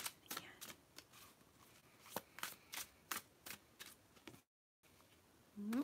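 Cards being shuffled: a string of quick crisp snaps and riffles, a brief pause of silence, then more handling noise.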